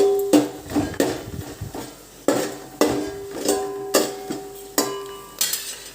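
A spoon clanks repeatedly against a cooking pot while oil and ghee are stirred. The metallic strikes are loud, sharp and irregular, with a faint sizzle underneath and no speech.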